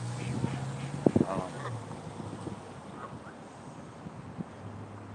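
Water birds such as coots call outdoors near a fishing spot, with a few brief honking, quacking cries standing out over steady wind and low background noise.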